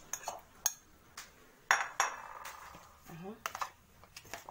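Stuffing mixture for mackerel being turned together in a bowl, with sparse clinks and scrapes of a utensil against the dish and soft talk in between, quiet and close.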